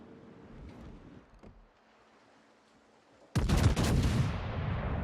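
A sudden loud, sharp naval-gun impact from World of Warships bursts in after a quiet stretch of faint low rumble, its crackling roar lingering and fading over a couple of seconds.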